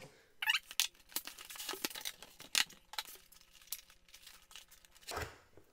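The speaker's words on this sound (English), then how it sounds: "I'll go ahead, we'll get it unboxed." Packaging of a Logitech G513 RGB mechanical gaming keyboard crinkles and rustles during unboxing, with sharp close crackles, tearing bursts and small clicks scattered across the stretch, loudest near the start and again near the end, without talk.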